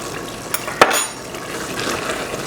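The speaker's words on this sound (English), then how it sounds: "Give that a nice stir." A spoon stirs chopped parsley and dried dill into rice pilaf in a pot, with a soft scrape and a single sharper clink amid a quiet sizzling, wet background.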